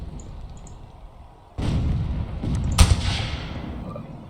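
A cannon fires in the Rise of Liberty video game during a large battle: quiet ambience, then a sudden heavy boom that leaves a rumbling wash, with a sharper crack and thump soon after.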